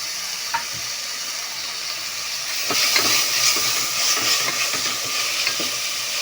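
Ginger garlic paste fries in a pan for chicken biryani, a loud steady sizzle with a few scraping stirs, close up and without talking.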